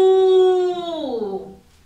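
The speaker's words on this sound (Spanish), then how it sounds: "¿Y cómo hace la vaca? Vamos a escucharlo." A recorded cow moo plays during an online class on farm animals: one long, loud, sustained lowing call that holds steady and then drops in pitch as it fades out, with no talk over it.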